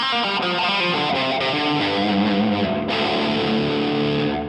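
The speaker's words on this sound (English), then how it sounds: "we have a distortion tone that I made. I like this one is just the pod up there. Yes, and it does sound like digital distortion." A Line 6 POD gives an electric guitar a harsh digital distortion tone as a few chords ring out loud and sustained, the notes shifting partway through, with no voices.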